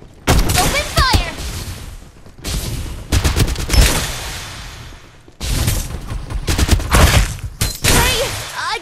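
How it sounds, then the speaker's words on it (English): Gunfire in the battle royale video game Farlight 84: loud clustered volleys of rapid shots in three bursts with short gaps, booming impacts, and a player talking over the firing. "Open fire."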